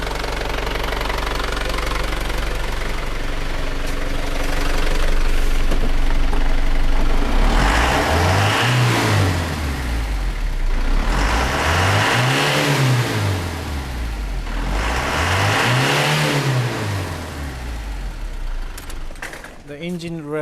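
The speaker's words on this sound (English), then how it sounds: "The engine revs really easily now." The engine of a Holden Isuzu Rodeo, diagnosed for lack of power, revs up three times in smooth rising and falling sweeps over a loud idle, close to the microphone.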